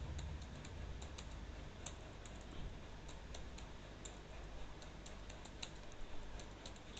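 Steady, fairly quiet clicking of a computer keyboard as a comment is typed into an Excel spreadsheet, a run of light keystrokes over a soft background hiss.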